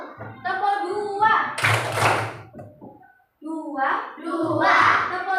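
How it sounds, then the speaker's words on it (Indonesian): Children in a classroom answer a teacher's call with a short burst of clapping, a quick cluster of hand claps set between stretches of young voices and adult speech. "Tepuk dua."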